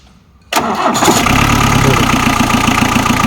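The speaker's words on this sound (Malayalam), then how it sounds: "ഇതൊക്കെയാണ് നമ്മുടെ അംബാസഡറിന്റെ എഞ്ചിൻ റൂം എന്ന് പറഞ്ഞത് ഒന്ന് സ്റ്റാർട്ടാക്കാം പ്രോ ആ സൗണ്ട് ഒന്ന് കേൾക്കാൻ കേട്ടോ" A 48-year-old, full-option Hindustan Ambassador car used in film shoots cranks and fires after a short quiet moment, then settles straight into a loud, steady, close idle.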